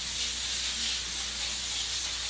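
Coconut spray hisses steadily from an aerosol can in one continuous broadband burst. It is fairly close and loud, with no talk over it.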